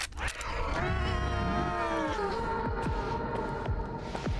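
A mutant cat in the Stalker 2 video game lets out a long, drawn-out wailing meow with wavering, speech-like pitch, loud and close, over a low background hum with a few thumps.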